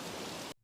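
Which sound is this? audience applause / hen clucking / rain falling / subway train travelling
rain falling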